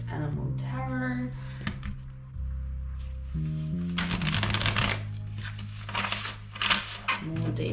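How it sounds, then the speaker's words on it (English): Tarot cards from an Orion's Animal Tarot deck are shuffled in continuous riffling, rustling bursts, close and fairly loud, with a steady musical background underneath. "I am going to pull from the Orion's Animal Tarot."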